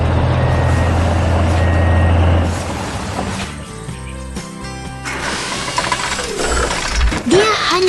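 A large excavator climbs onto a big truck at a mountain tunnel construction site, with a heavy diesel rumble, clanking tracks and mechanical ratcheting, and repeated reversing beeps sounding near and loud throughout.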